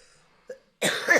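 A single sharp cough bursts out loudly and close after a brief faint throat sound, otherwise near silence.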